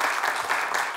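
A brief burst of steady clapping from an audience, dense and fairly loud, filling the whole moment.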